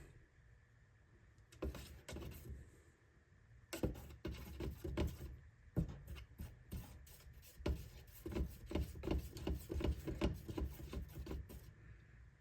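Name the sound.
stirring paint in a partial can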